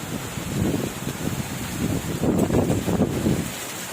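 Strong storm wind gusts and buffets against the microphone, with small hailstones and rain falling over a cornfield, a steady roaring rush that surges louder near the middle.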